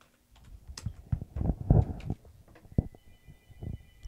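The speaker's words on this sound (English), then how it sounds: "Make sure your caps lock is on and just type in search." Keys clatter on a computer keyboard in uneven bursts of close taps, some louder strokes standing out, with brief pauses between runs.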